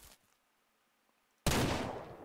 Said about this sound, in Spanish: Me gusta porque intento hacer disparos totalmente random.